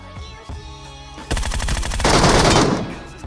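Automatic rifle fire in the battle royale game BGMI, an M4 shooting from the front: a rapid burst of loud, close shots that swells into a dense, sustained volley, with no talking.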